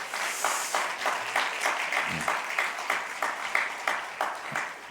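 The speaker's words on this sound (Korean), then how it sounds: "여러분 환영의 박수 한번 먼저 하겠습니다" A room full of people at a university worship service applauding, with steady rhythmic clapping that pulses in waves throughout.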